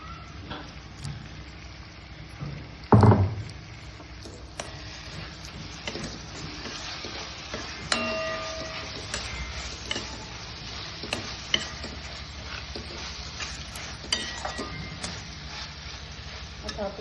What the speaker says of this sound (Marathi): आता आपण याच्यात टमाट्याची प्युरी घालत आहोत टमाट्याची पेस्ट जी आपण बनवली